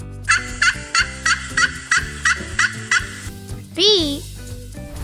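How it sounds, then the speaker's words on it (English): A turkey gobbles in a rapid series of about nine sharp, evenly spaced bursts, then gives one longer warbling call, all close and loud with no talk. "Turkey."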